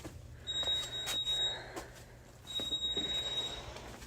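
An electronic alert beeping in a garage, two sustained high-pitched tones about a second long each, loud and piercing over background rumble and clatter.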